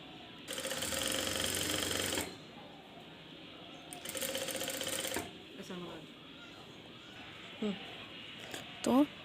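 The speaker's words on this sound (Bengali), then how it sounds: "এবার যে আমরা পট্টিটা বানিয়ে রেখেছিলাম সেটা এবার গলার সাথে অ্যাটাচ করে সেলাই করে দিব।" A sewing machine stitches a binding strip onto a blouse neckline in two sustained bursts of rapid whirring, separated by quiet pauses and followed by a few faint handling clicks.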